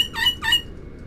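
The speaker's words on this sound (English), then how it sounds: "It's like you lot birds kicking off." Pigeons outdoors give two short squawking calls in quick succession, fairly close, then quiet background follows.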